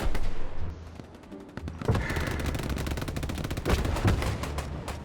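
Gunfire in the WW2 video game Hell Let Loose: a dense, loud stretch of rifle and machine-gun shots cracking in rapid bursts, with heavier booms mixed in and no talk.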